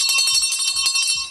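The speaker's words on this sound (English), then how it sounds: "With that bell again." Ringing bell sound effect on a Friday afternoon radio show, several bright metallic strikes in quick succession with a sustained shimmering tone, loud and close.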